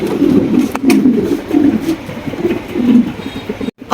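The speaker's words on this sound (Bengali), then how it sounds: "আরও জোড়া বিশাল সাইজের স্ট্রেচার কবুতর" Stretcher pigeons coo in close, repeated low rolling phrases, a few birds calling in bursts, with a brief dropout near the end.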